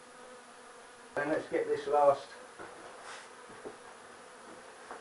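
Honey bees buzz around an open hive during a low-cost beekeeping inspection, a faint steady drone running beneath close conversational speech throughout.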